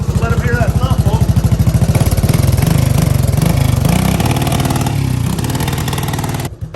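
A Honda ATC200S ATV engine idles close by, pounding out a steady, rapid low thump from the exhaust without letting up.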